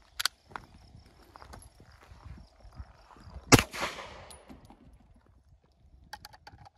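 A single sharp 9mm full metal jacket shot, 115 grain from a 4 1/4 inch barrel, cracks against an anti-spall armor plate at an outdoor range, one loud close report with a brief decaying tail amid faint background clicks.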